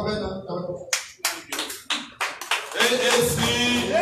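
Friends clap as the convener is welcomed at an AAC political rally: a few scattered, sharp claps in an irregular rhythm, growing into fuller applause with voices mixed in.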